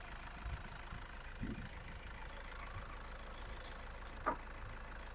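A 2013 Toyota Grand Innova 2.5 V automatic idles steadily with its engine a constant low hum, heard moderately from nearby and broken by a single faint knock near the end.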